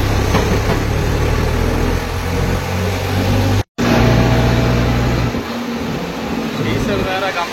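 A diesel tractor idles close by on a village road, a steady low engine rumble with a brief cutout midway, while someone talks over it.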